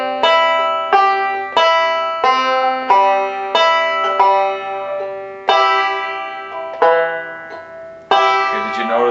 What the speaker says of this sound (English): now I'm going to play this whole line right here. It sounds like this.